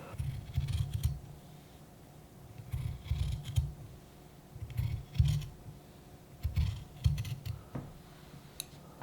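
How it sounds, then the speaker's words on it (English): Scissors snipping through qipao fabric, a steady run of close, crisp cutting strokes in short clustered bursts with brief pauses, no talking. "Cut off the excess fabric from the bottom line."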